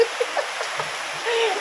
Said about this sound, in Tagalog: Dito sa labas, malakas ang ulan.